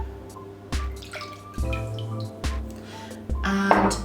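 Almond milk poured into a bowl as part of a vegan zucchini bread batter, giving several short splashy pours and drips separated by brief pauses, close and fairly quiet with no talking.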